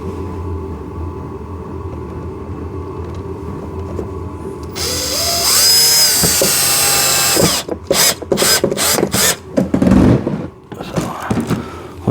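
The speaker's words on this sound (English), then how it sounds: "we're going to put a screw into that one" A power drill drives a screw into the plastic body of a 24V two-seater 4x4 kids' ride-on car: a steady whirring run, then a series of short, sharp bursts as the screw seats, heard close up.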